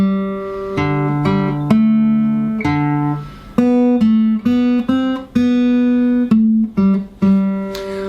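The first melody phrase of O Come, All Ye Faithful is played as a chord melody on guitar, with clear, ringing plucked notes in a slow, measured sequence. It is close, loud and solo, with no talking.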